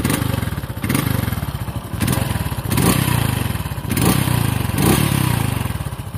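A Honda Pop 110i motorcycle engine runs with its air filter removed, a close, loud pulsing chug that surges and dips in repeated throttle blips, raw and clattery.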